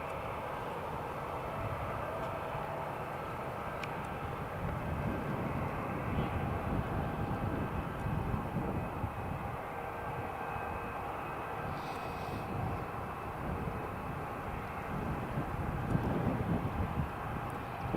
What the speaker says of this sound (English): this EasyJet's taxiing